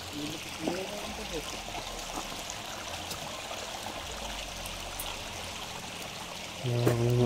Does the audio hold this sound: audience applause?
no